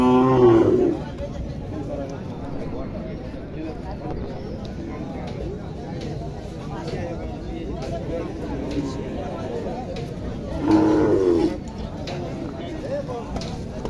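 A dairy cow lows at a cattle market in Sapahar, Naogaon, where Sahiwal and local deshi cows and calves are sold. Two drawn-out moos, one at the start and one near the end, rise over a constant murmur of crowd chatter.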